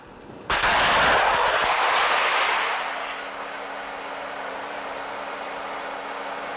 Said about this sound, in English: A bit further out is an M4 Sherman tank that the number 6 vehicle will be firing at.